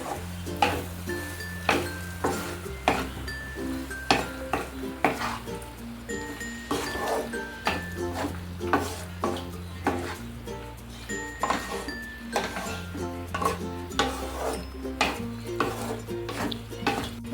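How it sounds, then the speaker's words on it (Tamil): Pasta for masala macaroni being stirred in a frying pan: repeated scraping and clinking of a spoon against the pan over a low sizzle, steady for the full length, with no speech. "இப்போது இந்த பாஸ்தா போட்டுக்கலாம். இது தீ குறைச்சிடலாம்."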